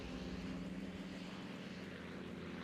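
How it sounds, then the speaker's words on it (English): Planes take off from an aircraft carrier in a naval battle video game, a faint, steady droning propeller engine hum that continues without a break. "I just love watching planes take off from the carrier"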